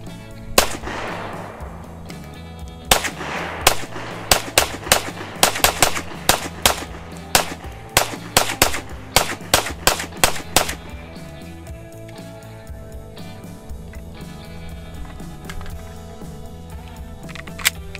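A brand new Ruger-57 pistol fires its first magazine of 5.7x28 rounds, a string of sharp, loud shots at an uneven rapid pace, then quiet outdoor ambience as the firing stops.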